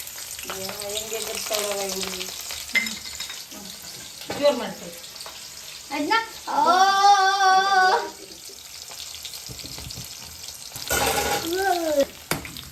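Onion and dried red chillies fry in hot oil with a steady, close sizzle that carries through the clip, broken by a few louder crackling bursts, while voiced sounds rise intermittently over the frying.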